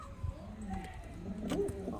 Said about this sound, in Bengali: ফ্রেন্ডস এখানে যে ছ পিস পায়রা দেখতে পাচ্ছেন